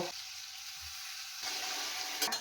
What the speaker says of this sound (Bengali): এবারে আমি এর মধ্যে একটু জল দেব।